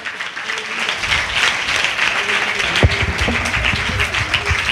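A church congregation claps steadily through a fasting prayer service, dense broadband applause filling the space with a few sharper, louder claps standing out partway through.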